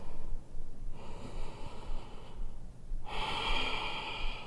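Deep breaths during a yoga session, two long airy exhales, the second louder and fuller, close and unvoiced over low background rumble.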